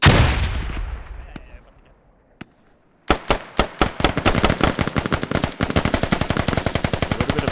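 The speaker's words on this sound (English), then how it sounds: "A little bit of firefight happening here" Rapid automatic gunfire in a tactical shooter video game firefight, starting with a loud, fading explosion-like blast and a couple of isolated shots, then sustained bursts of close, loud rifle fire.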